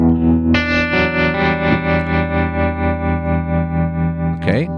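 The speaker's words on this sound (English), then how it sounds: "I create a scene tremolo." Electric guitar run through a tremolo effect on a Fractal FM3/FM9 modeler, a sustained distorted chord pulsing in steady rhythmic volume swells, loud and close, ending with a quick pick scrape.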